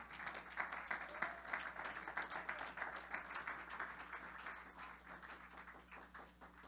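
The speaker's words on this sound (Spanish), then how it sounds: "ofrenda de palmas al Señor" A congregation claps during a church sermon on worship, a fairly faint, steady patter of many hands with a rhythmic, beat-like pulse throughout, a low hum running under it.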